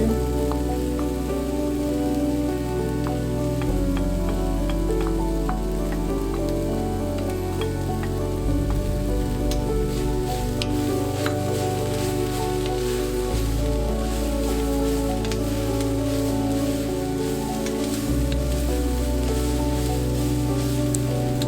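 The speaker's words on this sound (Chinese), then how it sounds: "翻炒均匀， 然后加入笋丝" Bamboo shoot strips stir-fried in a wok with mushrooms and wood ear fungus for hot and sour soup give a steady close sizzle with faint scraping and tapping throughout, over a low background hum and no talking.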